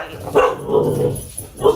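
Puppies bark with several sharp, close yips and barks spread across a short moment, loud over a faint indoor background.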